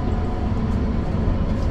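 Low, steady rumble of the Sunrise Express sleeper train in motion on the line from Tokyo, a constant rolling drone heard from inside the carriage with no break.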